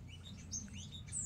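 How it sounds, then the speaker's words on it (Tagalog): A bird chirps in a flowering makopa tree on a farm, giving a few thin, high tweets that sit faint above a steady low outdoor hum. No voices are heard. "Ayan, may ibon."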